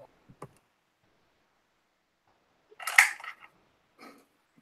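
A frog-shaped clicker toy clicks in a short burst of sharp snaps near the middle, with a fainter click shortly after and a few quiet ticks at the start, otherwise near silence.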